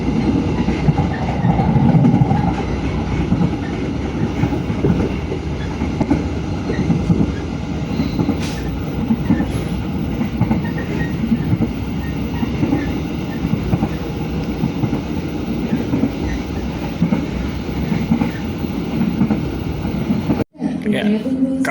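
Train rumble and rail clatter of the KA Motis arriving at Kroya station, a steady loud rolling roar lasting throughout, with voices faintly under it and a sharp brief knock near the end.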